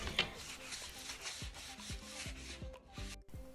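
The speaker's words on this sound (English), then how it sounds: "I sand it down to smooth it out and to remove the splinters." Pieces of wood cut for a Dollar Tree DIY ladder spice rack are sanded by hand to remove splinters, a steady close scratchy rubbing with repeated back-and-forth strokes, no voices.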